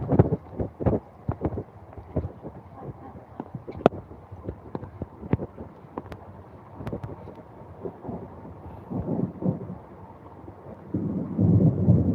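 Heavy rain in Africa patters with gusty wind buffeting the microphone, broken by low rumbling thunder and sharp cracks, swelling louder toward the end.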